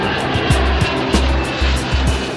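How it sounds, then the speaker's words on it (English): Antonov AN-124 Ruslan heavy transport with turbofan engines roaring steadily at takeoff power, a loud continuous engine drone with pulsing low tones and no voices. "Despite of its enormous takeoff weight of almost 400 tons, AN-124 can take off even from sand."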